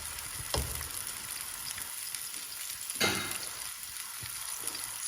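Chopped onions fry in a pan for a Kashmiri brain masala dish, giving a steady close sizzle throughout with two louder stirring scrapes, no voices.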